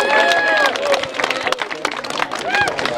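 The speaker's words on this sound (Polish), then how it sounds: "Wielkie brawa!" A crowd at a youth friendship tournament award ceremony claps and cheers for the tenth-place team, with dense, lively applause mixed with voices and shouts close by.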